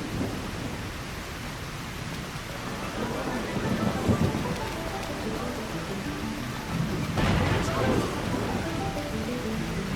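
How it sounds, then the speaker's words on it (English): Rain pours steadily in the video game Trails Beyond the Horizon, with low rumbles of thunder swelling around the middle and near the end, no talk. "Finally, some rain."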